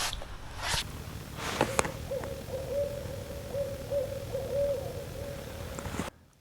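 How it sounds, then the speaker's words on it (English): An owl hoots in a snowy winter camp beside a frozen lake, a sustained low call at moderate distance with a couple of brief rustles before it and quiet surroundings. "Just heard an owl."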